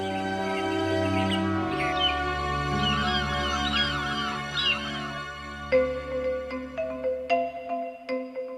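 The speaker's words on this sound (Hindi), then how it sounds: "इस फजा में 200 से ज्यादा किस्मों के परिंदों की चहचहाहट सुनाई देती है।" Birds chirp and warble in bursts in Deosai National Park over a steady electronic hum and tones, with a few sharp ringing notes near the end.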